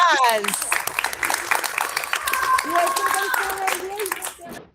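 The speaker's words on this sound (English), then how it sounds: "Let's give them a round of applause." Light audience applause at a school math celebration, scattered claps running under voices and children's chatter, fading out near the end.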